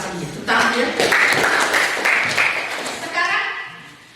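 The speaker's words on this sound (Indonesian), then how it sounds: "tepuk tangan untuk Nona yang sudah membaca ini" Classroom students clap for a girl who has just finished reading, a burst of hand clapping that starts abruptly and continues steadily, with a teacher's voice speaking over it near the end.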